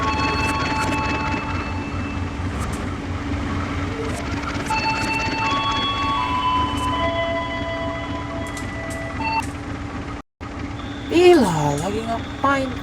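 A Ciliwung commuter train in Trainz Simulator runs with a steady mechanical rumble and sustained tonal whines that rise and fall. The sound drops out briefly near the end, then a short burst of voice follows.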